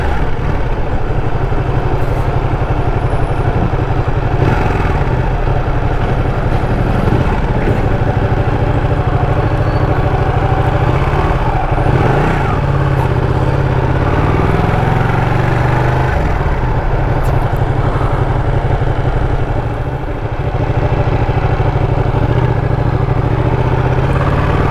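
Ducati Panigale 959 sport motorcycle riding along village roads in Tamil Nadu, its engine a steady, loud, continuous drone with wind noise throughout, no talking.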